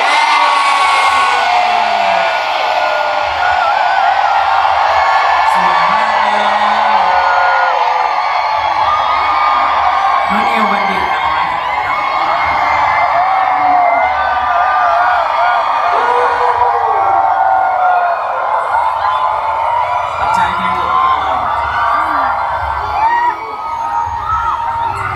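A crowd of fans cheers, whoops and screams steadily at an outdoor graduation day photo shoot, loud and continuous with shouts rising above the roar.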